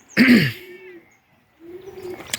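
Racing pigeons in a loft give soft, close cooing calls, a short burst followed by a pause and then a second low, drawn-out coo, with faint rustling in between.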